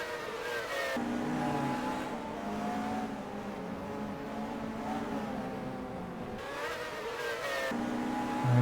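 Race car in a racing video game at Imola locking up its brakes and spinning off the track onto the grass, a loud continuous engine drone with shifting revs and brief tire noise, no talking.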